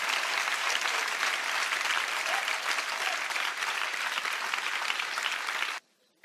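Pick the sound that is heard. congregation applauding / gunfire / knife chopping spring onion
congregation applauding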